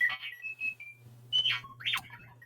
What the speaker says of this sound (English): The alarm is a bit late.